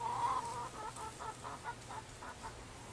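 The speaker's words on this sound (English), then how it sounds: "I only keep like 20 chickens down here in this little pen" Chickens clucking close by in a small pen, a series of short, repeated calls, one bird louder at first, over a low steady background hum.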